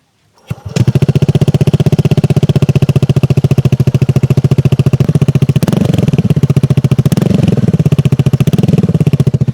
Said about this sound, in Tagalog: soundcheck tayo sa pipe natin na Akrapovic na merong silencer